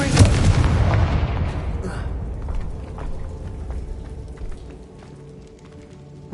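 Confringo fire blast spell in Hogwarts Legacy: a loud burst that rumbles and crackles like a heavy explosion, then decays into a long fading crackle.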